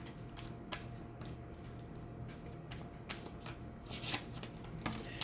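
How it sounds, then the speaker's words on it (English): Tarot cards shuffled by hand in a quiet room, a steady run of soft riffling flicks and papery slaps, close and fairly faint, with no talking. "Let's pull some more cards."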